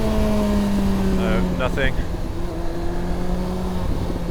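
Kawasaki ZX-9R motorcycle engine pulling up into a wheelie attempt, a steady, close, humming drone that surges briefly before settling, with a few spoken words over it.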